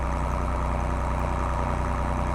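The engine of a small Fiat tractor in a farming video game strains under a heavy load, giving a loud, steady, low drone that holds at maximum revs without letting up.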